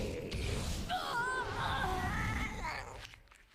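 A cat meow sound effect from a Hearthstone card in a video game, a drawn-out wavering mewl lasting a few seconds at moderate volume over the game's background audio.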